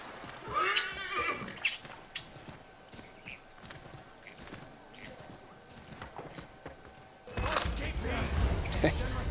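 A horse in the Assassin's Creed III video game gives a whinny and sets off clip-clopping hooves through a town street. The hoofbeats are moderate and fairly close, with a busier rush of game noise at the end.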